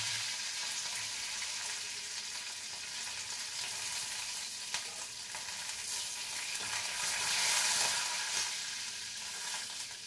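Mustard seeds and curry leaves sizzle in hot oil for a tempering over peanut chutney, a dense, steady crackling hiss that holds for the whole stretch, loud and close with no voices.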